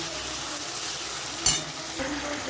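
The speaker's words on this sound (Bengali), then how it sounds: "এবারে আমি দিয়ে দেবো মটনটাও কিছুক্ষণ পেঁয়াজের সঙ্গে নেড়ে চেড়ে নেব।" Mutton pieces frying with browned onions in a pan, a steady soft sizzle broken by one brief stir or clatter partway through.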